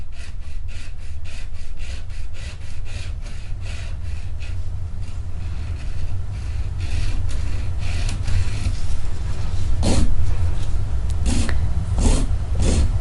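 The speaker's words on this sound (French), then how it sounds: "je lime donc l'extension" A gel nail extension is filed by hand, making a steady, close, rhythmic rasping with quick repeated strokes that grow slightly louder and rougher toward the end, with no speech.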